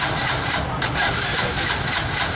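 A motor vehicle engine, treated with an oil additive, starts and settles into a loud, steady, rough idle close by.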